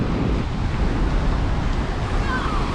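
Surf and gusting wind roar along a Florida beach by a pier during a tropical storm, a dense continuous rush of waves and wind buffeting, loud and unbroken.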